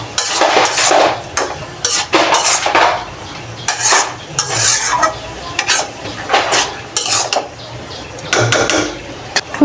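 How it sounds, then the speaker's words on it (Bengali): A spatula scrapes and clatters around a frying pan as cumin and ginger paste is stirred in for a cabbage-potato curry, in steady repeated strokes over a soft sizzle. "আধা চামচ জিরা বাটা দিয়ে দিব, আধা চামচ আদা বাটা দিয়ে দিব, ভালো করে নেড়ে চেড়ে নেব"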